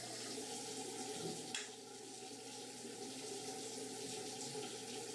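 Shower water pours steadily with a soft hissing wash, a brief splash or knock near the middle, and a constant low hum underneath during a recorded gaming session.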